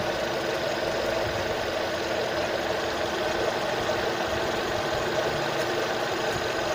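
A car engine idles steadily and evenly during a variable valve timing fault diagnosis, with a constant low hum and a faint ticking texture close by, and no voices.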